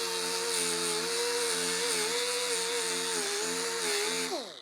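An angle grinder disc grinds down MIG welds on a rust-repaired Porsche fender under light pressure, with only the disc edge in contact. It gives a loud, steady, high-pitched whine with a slightly wavering tone, then spins down at the end.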